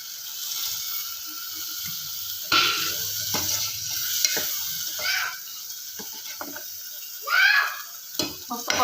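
Bombay duck (bombil) pieces sautéed in a pan for bhaji, a soft sizzle under repeated scraping stirs of a spatula, with louder bursts of clatter here and there.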